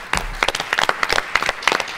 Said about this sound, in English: Let's also have a special round of applause for the Bob Bullock Texas State History Museum.